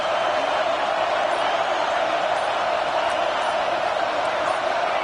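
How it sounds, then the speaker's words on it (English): A football stadium crowd roars loudly and continuously, cheering on the defense during a red zone stand in Michigan at LSU. "This crowd is trying to inspire this defense to make a big red zone stop."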